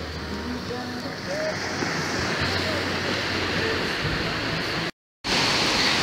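Ocean surf breaking on a beach at Cabo Frio roars as a steady broadband wash, fairly loud and continuous, with a brief dropout near the end and faint rumbling tones beneath.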